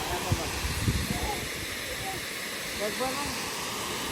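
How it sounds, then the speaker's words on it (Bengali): A steady broadband rush of falling water fills the scene, with a few faint voices briefly audible underneath. "পানির শব্দ শুনছো এরম ঘুম কি সুন্দর ঝর্ণার শব্দ ওয়াও"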